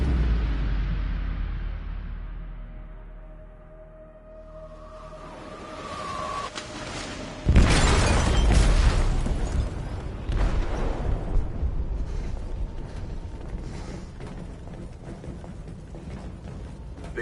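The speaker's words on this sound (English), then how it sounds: "They detonated an explosive in the hold." A heavy explosion goes off in a ship's hold in the game Detroit: Become Human, a sudden loud blast after a quieter rumbling lead-in, followed by a long roaring, crackling aftermath.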